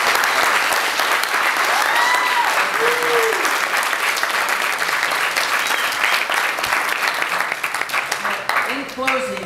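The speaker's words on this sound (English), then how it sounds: "And I'd like to give Tom a round of applause for all of these." An audience at a staff training session breaks into loud, sustained applause that fills the room, with a few voices calling out over the clapping before it starts to thin near the end.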